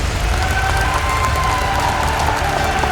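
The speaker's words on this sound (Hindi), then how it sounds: "पूरी टीम चैंपियन के लिए जोरदार तालियां बजाएं एक बार" A large crowd at a Team Champion gathering breaks into loud, sustained applause and cheering, dense clapping that holds steady from start to finish.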